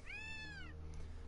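A single close cat meow, a rising then falling tonal cry lasting about half a second, over a low steady background hum.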